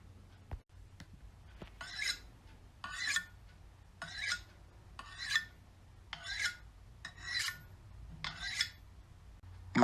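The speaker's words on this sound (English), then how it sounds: "So you're going to grab your knife and sharpen it." A knife blade is drawn across a sharpener in about eight evenly spaced rasping strokes, each one a short, gritty scrape, close and fairly quiet with silence between.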